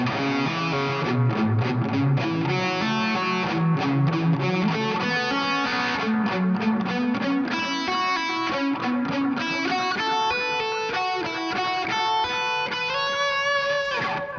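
An Epiphone Les Paul electric guitar plays a shred pentatonic lick slowly through distortion, a continuous run of picked notes climbing up the neck, loud and close with no talking.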